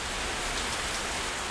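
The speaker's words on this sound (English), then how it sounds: "it's really nice to be in here when it's raining, because you just hear that pitter patter of rain" Rain patters outside a games room as a soft, even hiss of drops that stays constant throughout, with no other sounds on top.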